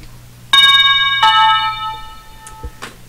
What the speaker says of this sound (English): the doorbell ringer will chime